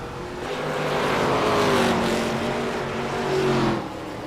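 Race car engines hum and swell at a fairgrounds track during qualifying laps, a steady loud drone with rising and falling pitch as cars pass, no talking.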